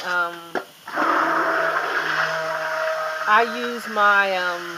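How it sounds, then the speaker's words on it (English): A stainless steel hand blender mixes homemade soap in a pot, running with a steady buzzing motor whine that shifts pitch slightly as it churns, close and fairly loud. "But I have a stainless steel hand blender."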